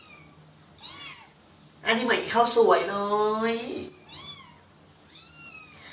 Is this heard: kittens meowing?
yes